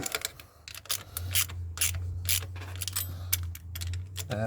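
Ratchet undoing bolts on a Kia Carens thermostat housing, a series of sharp close clicks in short bursts over a low steady hum.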